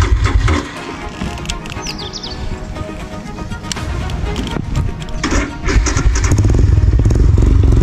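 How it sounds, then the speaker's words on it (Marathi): A motorcycle engine runs loud and close at the start of a solo ride from Nashik toward Umrande waterfall, a steady rumble that swells toward the end. "तर फायनली बाईक स्टार्ट झालेली आहे"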